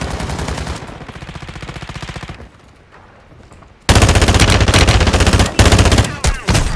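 Gunfire in the video game Call of Duty Warzone 2.0, including shotgun blasts: rapid loud bursts of shots, a brief quieter lull, then a heavy barrage of close, punchy shots.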